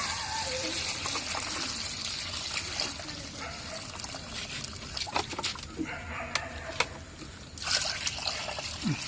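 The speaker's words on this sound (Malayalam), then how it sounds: "ഇനി ഇതിലേക്ക് ഈ കൂട്ടിലേക്ക് ആവശ്യത്തിന് വെള്ളം ഒഴിച്ചു കൊടുക്കാം കേട്ടോ, നിറച്ചൊഴിക്കണ്ട" Water is poured into a container of cow-dung manure mix for farm fertilizer: a soft, close trickle and dribble of liquid with faint splashes, fairly quiet throughout.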